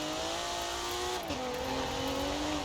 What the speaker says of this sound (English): I shouldn't have yanked the handbrake.